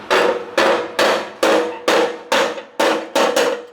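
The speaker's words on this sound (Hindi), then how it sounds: "इस तरह करके ऊपर से थोड़ा सा हैमर कीजिए।" A hammer strikes a gas stove burner to loosen a stuck screw on a leaking stove, eight loud, evenly spaced metallic blows, each ringing briefly before the next, close up with no talking.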